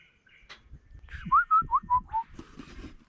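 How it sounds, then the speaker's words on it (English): A short series of clear, melodic bird calls in the wilderness during rain, five or six quick whistled notes in a row, fairly faint against quiet surroundings. "you can hear the birds and that going off out in the wilderness."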